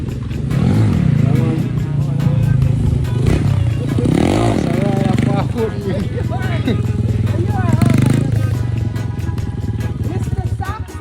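Motorbike arriving on a road during a cooking and touring outing, engine revving and rising and falling in pitch near and loud while several people talk and shout over it.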